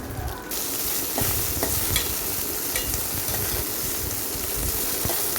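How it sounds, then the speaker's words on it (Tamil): Okra (ladies finger) sautéing in oil for sambar, a steady close sizzle with stirring scrapes throughout, no voices. "நல்லா கொஞ்சம் எண்ணெயில் வதக்குங்க"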